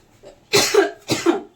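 A woman with a cold coughs twice in a kitchen, two close, loud, harsh bursts about half a second apart with quiet between them.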